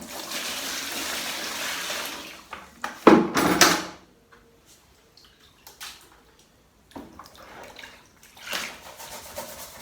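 A brush scrubbing out a plaster bucket with a bit of water, giving bursts of wet scraping and sloshing in irregular strokes, loud in the middle and sparser toward the end, with quiet gaps between.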